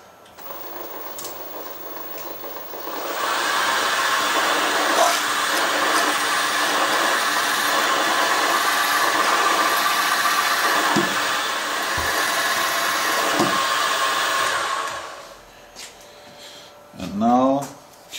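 A drill steps a pilot hole up to 4.6 mm with a standard twist bit, a steady whining drone holding for about twelve seconds at close range before stopping, with a few brief handling knocks and a short voice afterward.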